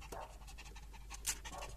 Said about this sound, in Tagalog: Pasensya na kayo dito sa aso ko. Parang makina.